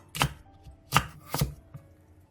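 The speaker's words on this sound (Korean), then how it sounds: "양파, 사과, 배, 홍고추, 무 자투리를 갈기 좋게 잘라주고" Three firm knife chops, each with a sharp thud on a cutting board, cut onion, apple, pear, red chili and radish scraps into pieces, followed by a faint fourth tap.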